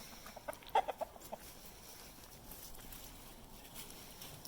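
Chickens on an off-grid farm property cluck in a brief burst of several short, fairly quiet calls, then fade into a soft outdoor background with no one speaking.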